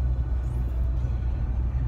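Trucks rumble nearby as a low, steady engine drone with no clear individual passes.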